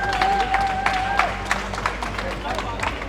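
An audience at a bread-making competition applauds, a busy patter of claps under crowd noise with a voice speaking over it, fairly loud and continuous.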